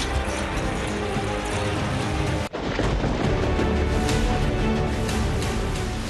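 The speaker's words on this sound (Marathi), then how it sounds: "पाऊस कोसळतोय" Heavy monsoon rain pours in Roha taluka of Raigad, a dense, loud, constant hiss and patter that cuts out for an instant midway before resuming.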